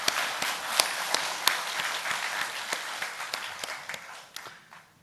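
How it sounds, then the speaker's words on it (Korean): A church congregation applauds after a hymn of thanks, a dense, steady clapping with sharp individual claps standing out, fading toward the end. "우리 감사의 박수를 보내겠습니다"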